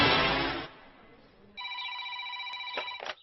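A telephone rings with an electronic trilling ring, starting after a short burst of other sound and continuing clearly to the end.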